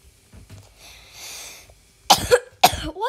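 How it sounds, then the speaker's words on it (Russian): Two sharp coughs from a man with a sore throat, loud and close, each a harsh burst following a quieter stretch of faint breathy noise and rustling in a car-park setting. "Ну, еще кашляю. И горло болит."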